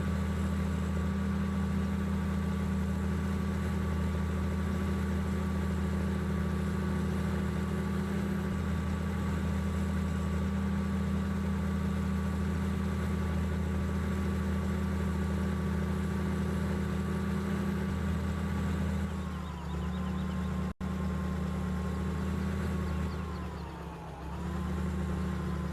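A tractor engine idles steadily in Farming Simulator 15 while hauling bales, a low constant drone that holds for a long stretch, then dips briefly twice near the end.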